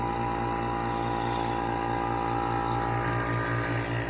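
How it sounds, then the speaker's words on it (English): A vacuum pump for resin casting wood runs close and steady, a loud continuous mechanical drone with a fast pulsing throb and no pauses. "turn on my vacuum pump, which is a little bit loud and annoying"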